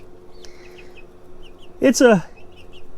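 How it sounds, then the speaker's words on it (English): Several chickens cluck and chirp softly inside a small off-grid tiny house, faint scattered calls with a brief voice speaking in the middle. "the chickens roaming around in the house"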